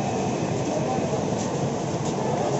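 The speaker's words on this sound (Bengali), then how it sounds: "এই মুহূর্তে হাওড়া স্টেশনের পুরো দৃশ্যটা দেখাচ্ছি" Busy ambience at Howrah railway station in Kolkata after lockdown, a dense, steady wash of crowd and train rumble with no distinct events.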